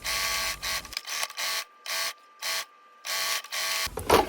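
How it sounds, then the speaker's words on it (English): A sewing machine stitching lace trim around the front edge of an undercap: short, close bursts of whirring stitching separated by brief silent pauses, in an irregular rhythm. "I sewed again around the front edge of the undercap, but this time I was 1/8 of an inch away from that flappy edge"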